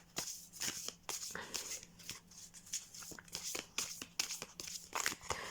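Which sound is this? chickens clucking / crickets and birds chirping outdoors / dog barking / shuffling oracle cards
shuffling oracle cards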